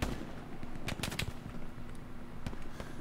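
Gunfire in the WW2 shooter Hell Let Loose, a cluster of sharp cracking shots in quick bursts near the start, then scattered single reports at moderate distance over a low background rumble.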